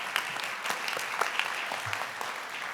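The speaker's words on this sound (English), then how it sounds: "we can applause at the end of each one" Audience at a nonprofit pitch event applauds between presentations, an even, moderately quiet wash of many hands clapping with a few sharper individual claps standing out.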